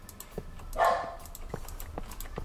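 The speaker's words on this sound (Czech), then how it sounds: "teď se nám tu zase rozčílí psi" Dogs bark and yip a few times at a moderate distance, with one louder burst near the start standing out over a quiet indoor room.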